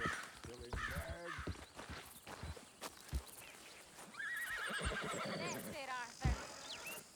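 Horse whinnying and neighing in the Red Dead Redemption 2 video game, several rising whinnies close by with clip-clopping hooves, while someone speaks briefly over them.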